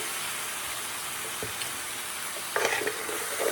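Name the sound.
homemade fresh tomato sauce poured into a simmering pan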